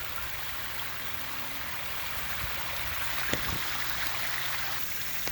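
Water from a koi pond shower splashes and trickles steadily outdoors, a soft continuous patter with a few faint louder drips.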